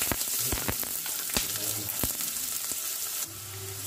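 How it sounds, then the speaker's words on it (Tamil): Two large chopped onions frying and sizzling in a pan, with a steady crackle and short scraping stirs close up, the sizzle dropping lower near the end. "ஸோ இந்த பெரிய வெங்காயம் போட்டு நல்லா கொஞ்சம் அப்படியே வதக்கிடலாம்."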